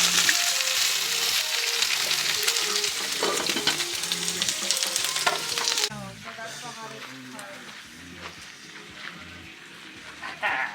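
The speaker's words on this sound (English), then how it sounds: "We got some bacon going, some potatoes. Should be a good breakfast. I got a nice pan coming on." Bacon and potatoes fry in a pan for breakfast at a cabin, a steady close crackling sizzle with stirring clatter that eases partway through, while people talk over it.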